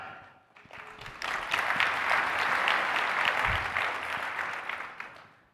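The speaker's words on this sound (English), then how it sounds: "Another big round of applause" Applause from a conference keynote audience swells quickly, holds steady for several seconds, then begins to fade.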